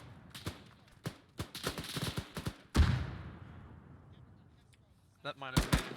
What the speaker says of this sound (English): Grenade out, northeast.